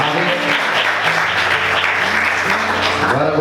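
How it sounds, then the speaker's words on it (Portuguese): Church congregation applauding during a sermon, a dense, steady wash of many hands clapping together, loud and close, with faint voices under it. "Vamos aplaudir o Senhor mais uma vez."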